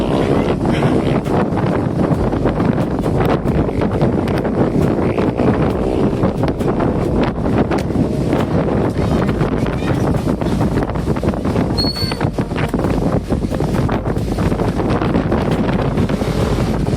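Strong wind roars steadily over the microphone at Taal, a dense, constant buffeting rumble with gusty flutter lasting throughout, close and loud with no voices.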